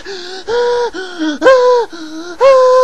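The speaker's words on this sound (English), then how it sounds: "I can hear you breathing down the phone." Heavy, close breathing down a phone line in repeated gasping pulls, about six breaths with short pauses between, loud and alone without any talking.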